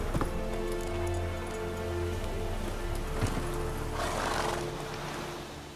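Hooves of Roach, the horse in The Witcher 3 video game, pound at a gallop under a steady backdrop of game music and ambience, with a muffled rushing swell partway through.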